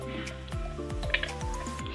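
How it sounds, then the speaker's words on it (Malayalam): Beef being mixed and kneaded by hand with water for a Kerala-style spicy curry: soft, wet squelches and squishes in an irregular rhythm, close and fairly quiet. "ഇനി ഒന്നുകൂടി കുഴച്ചെടുക്കണം."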